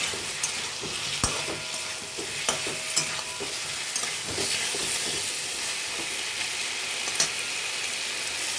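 Boiled taro (gathi kochu) curry sautéed and stirred in a pan, a continuous close sizzle with scattered soft scraping clicks from the stirring, no talk.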